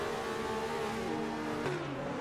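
Several Group C2 race cars in an AI-driven racing game pull out of the pits at Charlotte, their engines droning and revving together in a steady, dense roar with a brief surge of acceleration partway through.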